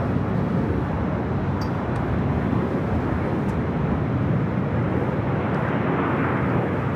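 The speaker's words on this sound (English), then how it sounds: "We're doing that Qantas A380 Super coming in from Sydney, flight 11, heading here to the north side." A Qantas Airbus A380 arriving from Sydney lands at LAX on the north side, a broad continuous roar of jet engines at steady loudness throughout, with no voices.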